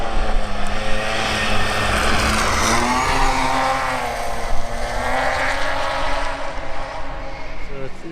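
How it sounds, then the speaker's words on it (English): A BMW rally car fitted with a new exhaust system roars past on Speyside stages, its engine rising and falling in pitch, loud and close, with a voice talking over the engine noise. "The car now sporting a new exhaust system for some more power and, crucially, more of that glorious noise."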